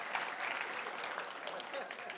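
Applause from a church congregation during a sermon, steady, dense clapping of moderate loudness that fills the short stretch, with some voices mixed in.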